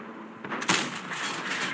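A single tank cannon shot in the World of Tanks Frontline mode, a sharp broadband blast that rolls into a sustained rumble over a steady background of battle noise.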